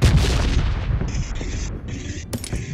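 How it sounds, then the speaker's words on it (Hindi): Bombs exploding in the mobile battle royale game PUBG Mobile, a dense run of loud booming blasts and gunfire-like bursts filling the whole stretch, with sharp high crackles layered over the rumble. "अरे दीप सिंह भाई ना, इतना बम गिराएंगे, इतना बम गिराएंगे कि लाख मौत"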